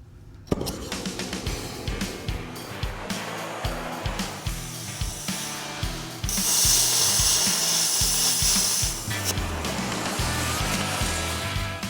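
Cutting off a welded homemade front bumper from a Willys truck: a harsh, continuous cutting and grinding roar with a rhythmic pulsing underneath, growing louder and brighter midway with a hissing, sizzling edge.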